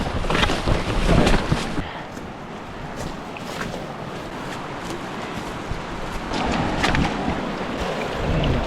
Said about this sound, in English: We can hear the river through the trees